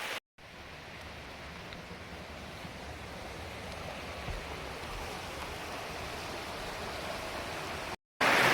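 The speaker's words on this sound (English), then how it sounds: "Here at mile 1190, Milton Creek is flowing very well" Milton Creek flows along the Pacific Crest Trail as a steady, soft rushing wash of water with no voices, framed by brief dropouts at the start and end.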